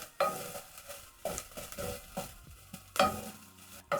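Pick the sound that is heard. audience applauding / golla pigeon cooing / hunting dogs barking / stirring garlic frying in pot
stirring garlic frying in pot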